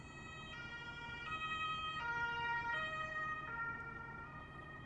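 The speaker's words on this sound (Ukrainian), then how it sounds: "Так, їде швидка." An ambulance siren wails in a two-tone alternating pattern, moderately distant and steady, over low road rumble.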